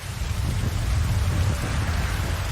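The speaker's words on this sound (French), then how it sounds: "Il pleut." Steady, dense rain noise with a heavy low rumble, continuous and fairly loud throughout, like a downpour heard from close by.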